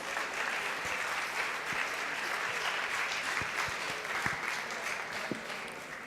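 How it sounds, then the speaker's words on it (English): An audience claps at a law festival valedictory function, a dense, steady wash of applause from a full hall that holds at an even level throughout, with no speech over it. "A huge round of applause."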